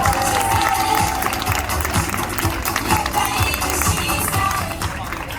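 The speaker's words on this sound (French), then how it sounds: "On peut l'applaudir." Audience at a vintage pin-up contest in Berre clapping for a candidate, a dense, lively burst of applause with a busy background of crowd noise, tapering slightly at the close.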